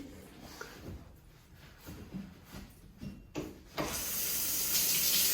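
Water from twin rain shower heads in a resort hotel bathroom bursts on loudly near the end, turning into a steady close spray after quiet handling noises.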